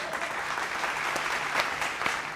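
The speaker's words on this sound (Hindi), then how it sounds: "इतनी घनघोर तालियों के लिए आप लोगों का भी आभार।" An audience at a televised political talk show applauds heavily, a dense continuous wash of clapping with a few sharper claps standing out.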